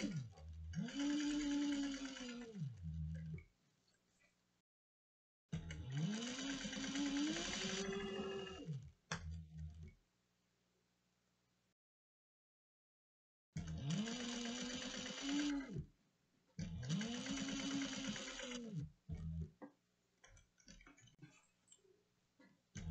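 A sewing machine bastes the edges of a cross-body sling in four separate runs of a few seconds each, the motor pitch rising and falling within each run, with quiet pauses between them.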